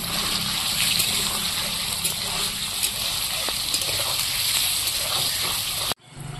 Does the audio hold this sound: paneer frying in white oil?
yes